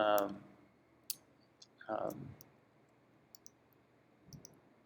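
Sharp, isolated mouse clicks sound at irregular intervals while pixels are picked in Photoshop, close and crisp between stretches of quiet and a few brief bits of speech.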